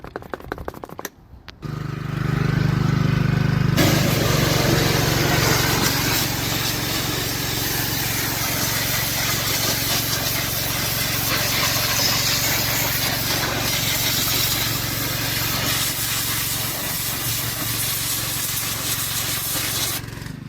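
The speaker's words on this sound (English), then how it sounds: "Pressure washer." After a few brief bumps, a pressure washer hisses on and sprays continuously at close range, a loud steady rushing spray with a low motor drone.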